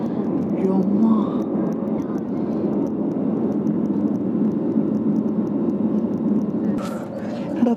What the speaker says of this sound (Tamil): டேக் ஆஃப் ஆகிட்டோம்